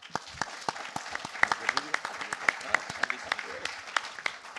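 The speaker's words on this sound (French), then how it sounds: "je voudrais qu'on applaudisse les participants" An audience applauds the participants at the close of a round-table session at an expert conference, the clapping steady and moderately close, with sharper individual claps standing out through the whole stretch.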